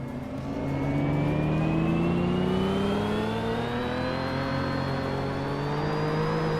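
A 1995 Ferrari F50 in a racing game accelerates hard off the start line, its engine note climbing steadily in pitch as it revs, loud and close, with no talk.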